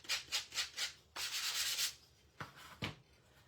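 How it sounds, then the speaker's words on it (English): Rhythmic hand sanding of wood with a 120-grit sanding block, five quick rubs, then a longer steady scrape, followed by two short sharp swipes, close and fairly quiet. "Take my 120 sanding block,"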